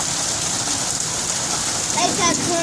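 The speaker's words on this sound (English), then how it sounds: "Well, it's finally a decent storm." Heavy rainstorm pouring down in a steady dense hiss of rain on surfaces, close and continuous, with a faint voice near the end.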